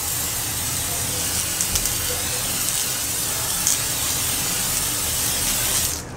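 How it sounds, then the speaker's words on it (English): A continuous hissing spray from an aerosol sunscreen can, steady and close for several seconds, cutting off abruptly at the end. "So I'm using this spray sunscreen, which I kind of hate. I'm just gonna put this on."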